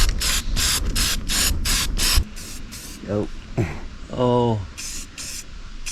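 Rust-Oleum metallic spray paint hisses from a can in a rapid run of short bursts, then a pause while a voice speaks briefly, then a few more close, loud sprays.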